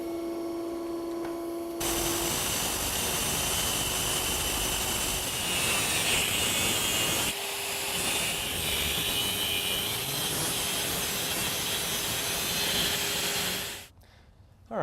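Cutting an electric motor shaft to length for a dual-motor electric vehicle drivetrain: a loud, steady grinding, cutting roar runs for about twelve seconds, then stops abruptly.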